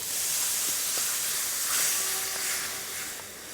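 Coconut milk is poured into curry paste frying in oil in a Thai kitchen near Kanchanaburi, giving a steady, fairly loud hiss and sizzle that swells midway, with a few faint clinks and no voices.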